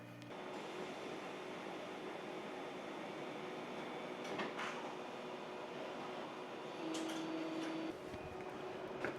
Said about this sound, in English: the computer is going to send over the print to my printer